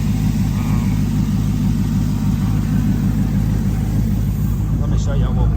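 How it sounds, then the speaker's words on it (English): A car engine idles high and steady after a fresh 160-amp alternator install, its low, constant rumble running close throughout while a person talks over it. "That thing's idled up high right now."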